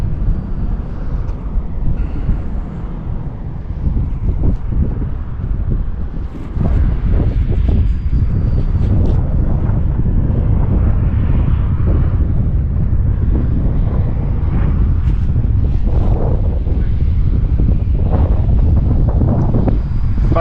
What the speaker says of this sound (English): Now wind is coming straight at me.